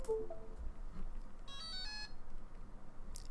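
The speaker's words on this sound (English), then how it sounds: "that beep just sounded, meaning that it just connected to this receiver" A short electronic beep sequence of a few rising tones as a radio-control receiver binds to a Turnigy Evolution transmitter, faint against a quiet background hum.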